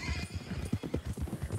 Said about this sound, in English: What kind of horse is that? Thoroughbred.